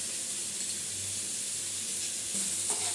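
Oil sizzles steadily in a pan over boiled arum stalks seasoned with salt and turmeric, a close, continuous frying hiss with a brief clink of a utensil near the end.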